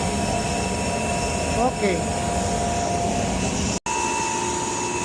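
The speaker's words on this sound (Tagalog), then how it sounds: "So yan ang process na magluto ng material sa makina, ng beads," Machinery in a styrofoam plant in Vancouver, Canada, cooking polystyrene beads, gives a steady, loud industrial roar and hum throughout, with one brief spoken word near the end.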